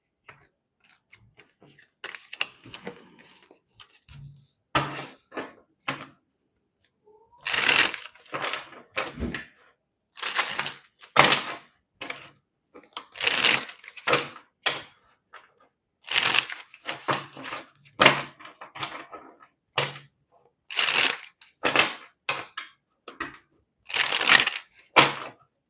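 Tarot deck shuffled by hand in repeated bursts of crisp card riffling and slapping, close and fairly loud with short pauses between, no talking.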